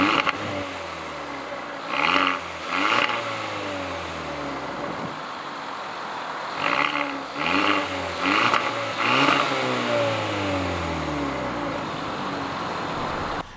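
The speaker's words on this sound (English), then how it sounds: "we still do have the twin aluminum tipped exhaust, and it does make a pretty unique sound when you get on the gas" A 2019 Hyundai Elantra GT N-Line hatchback accelerates through its twin aluminum-tipped exhaust, the engine note climbing in repeated rising sweeps between gear changes, moderately loud, without talk.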